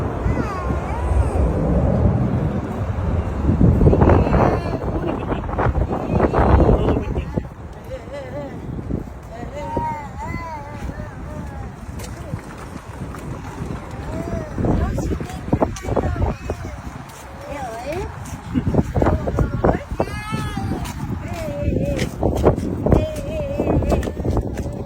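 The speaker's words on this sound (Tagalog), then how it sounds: "Oh, it's windy." Strong wind blows outdoors, roaring and buffeting the microphone steadily throughout, with people talking over it.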